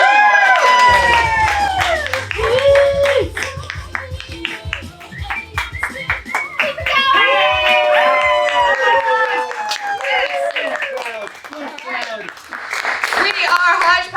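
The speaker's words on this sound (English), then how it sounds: "let's go ahead and start getting our laps and claps going to welcome up to the stage" A theater audience claps and cheers to welcome an improv troupe to the stage at Coronation Theater. The sustained, close applause carries whoops and shouting voices over it throughout.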